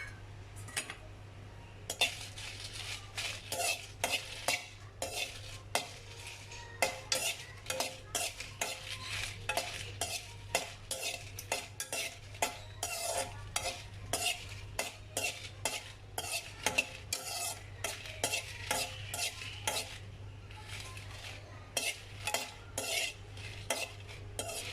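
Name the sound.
dried red chillies roasting and stirred in a kadai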